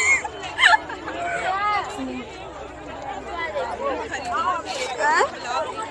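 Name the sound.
crowd chatter at the Gulabbari market in Ayodhya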